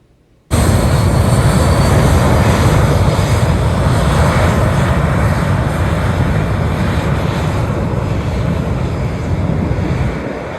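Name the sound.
airplane engines opening up and taking off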